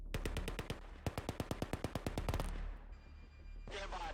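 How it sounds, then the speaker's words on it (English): A gunfight in the strategy game Command and Control 3 fires bursts of sharp automatic shots, a quick rapid string followed by another dense burst, then a brief lull and a softer noisy blast at the end. "At this point, everybody needs to join in the gunfight."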